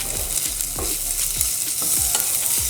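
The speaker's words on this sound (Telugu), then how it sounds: "కారం పావు టీ స్పూన్ పసుపు వేసుకొని వీటన్నిటిని కూడా కాసేపు అయితే వేయించుకున్నాం" Ginger garlic paste with salt, chilli powder and turmeric fries for a boiled egg fry, a loud, dense sizzle close up with regular scraping strokes of a spatula stirring, no one talking.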